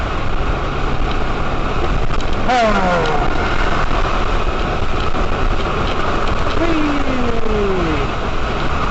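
Car engine in a video game revving hard while its tires spin and slide up a hill, a steady loud drone with rising whines throughout.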